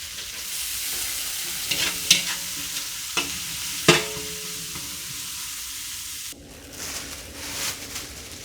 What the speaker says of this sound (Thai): ผัดให้เหลืองนะคะ